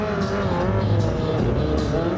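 Stunt motorcycle with a non-inline-four engine at a 2019 Streetfighter Day stunt show, roaring loud and steady throughout with gritty, rumbling revs up close.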